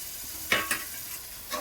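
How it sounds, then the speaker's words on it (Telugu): Chopped onions fry in a pan, a steady soft sizzle with two quick stirring scrapes and another near the end, brief and close. "ఉల్లిపాయలు వేగే వరకు ఒకసారి మళ్ళీ కలుపుకోవాలి"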